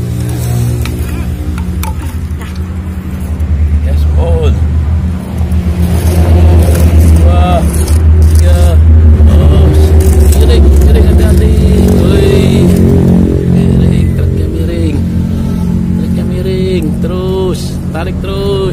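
Red truck loaded with sand labouring uphill, its engine droning loud and steady with surges of throttle, while people talk and shout over it throughout.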